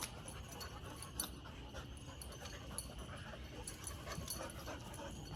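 Faint, rapid panting from German Shepherd puppies at play, with scattered small whimpers and yips, low in volume over a constant background hiss.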